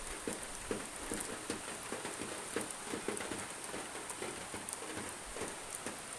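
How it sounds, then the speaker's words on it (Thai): Rain patters steadily on a surface during a windy storm, a soft, continuous spatter of drops heard faintly at a distance. "พอดีมาหัวเถื่อนฝนก็ตกเลย"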